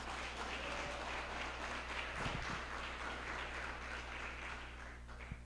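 A church congregation applauding during a sermon, soft and distant clapping over a steady hum, continuing evenly for several seconds.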